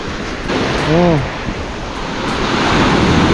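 Strong waves slam and wash against a small boat at sea in a loud, continuous roar mixed with wind buffeting, while a voice briefly calls out over it.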